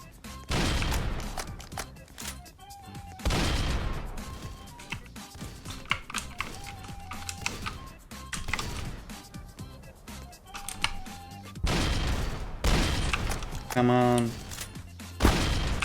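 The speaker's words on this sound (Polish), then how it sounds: "Tylko on nadal strzela, oszust." Enemy gunfire in the Dead Rails video game, bursts of shots crackling amid busy game sounds and music, with a louder rapid volley near the end.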